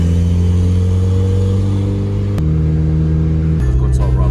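A car idles and shifts engine pitch while making a quick U-turn on the way to a wheel alignment, the steady hum dropping in steps before a short rev near the end; voices talk over it.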